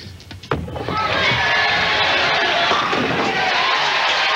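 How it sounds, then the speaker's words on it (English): A crowd cheers at a PBA bowling match at Little Creek, a sharp thud of a bowling strike giving way to a loud, sustained roar of applause and shouting that fills the room. "Brad Himmler, Brian's dad, cheering the son on here"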